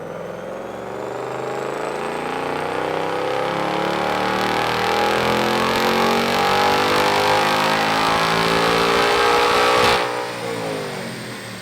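A Ford Mustang Dark Horse S650 with a six-speed manual on a dyno, its engine pulling through a long, loud rising rev for about ten seconds before the throttle lifts and it winds down.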